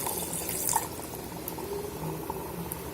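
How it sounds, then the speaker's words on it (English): Water pours steadily and faintly into an electric kettle holding chicken masala curry, a soft continuous splashing trickle with no talking. "Now add some more water."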